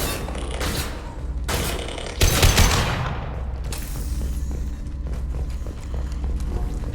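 Sustained gunfire from a firefight in the video game Mass Effect 2, rapid bursts and volleys rattling on throughout with a heavier blast midway, loud and close with no talk over it.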